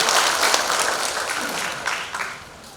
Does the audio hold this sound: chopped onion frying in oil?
no